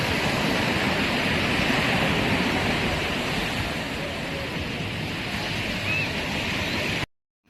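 Waves washing onto a beach in Goa, a broad, steady rushing hiss of surf that holds evenly for several seconds, then cuts off abruptly at the end.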